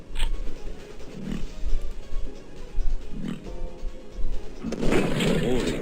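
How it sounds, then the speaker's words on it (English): Pig cop enemies in Duke Nukem 3D grunt and snort in short bursts over a low game rumble, with a louder cluster of grunts near the end. "Some piggies out there."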